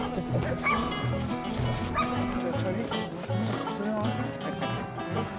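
Several dogs bark and yip repeatedly, loud and close, mixed with people talking in French at an outdoor kennel in the Matawin region of Quebec.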